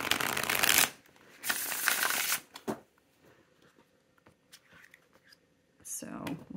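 A tarot deck is being shuffled in two quick, crisp riffling bursts near the microphone, followed by quiet tapping and soft handling of the cards, with a whispering voice between them.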